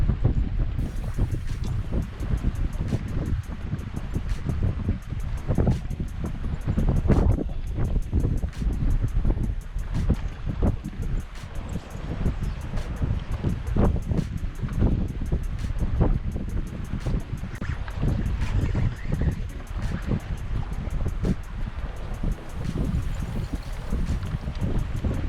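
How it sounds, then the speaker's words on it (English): Strong wind buffeting the microphone on a lake during bass fishing, a constant low rumbling roar with gusty surges across the whole stretch, loud and close, with faint water and boat sounds beneath. "The wind is howling today."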